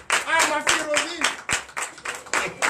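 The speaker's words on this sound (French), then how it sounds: "Donnez de vive acclamation." Congregation at a Sunday church service in Comè, Benin, clapping in acclamation in rhythmic bursts of hand claps, with a voice calling and tonal talk or singing running over them, close and lively.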